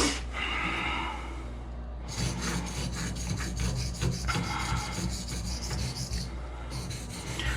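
A knife blade is sharpened on a lubricated diamond stone, with repeated rasping strokes in a steady back-and-forth rhythm, close and fairly loud, briefly pausing near the start before resuming.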